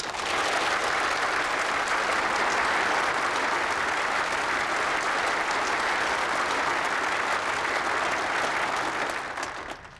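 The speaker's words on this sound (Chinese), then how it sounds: "鼓掌。" Sustained, dense applause from a large group of people continues at full strength for several seconds, then starts to fade at the very end, with no speech over it.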